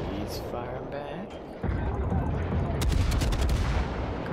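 Heavy naval gunfire from a British cruiser, the Leander, in a World of Warships battle: a dense, rumbling run of booming salvos that builds and grows louder toward the end, with someone talking over it.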